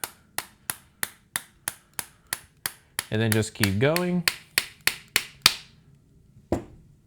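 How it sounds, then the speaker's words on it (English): A small hammer taps a pin into a foam cannon in a steady run of sharp, close metallic strikes, about two per second, with a brief spoken remark midway while the tapping carries on, then one last isolated knock after a pause. "a little hammer, to help push that pin inside"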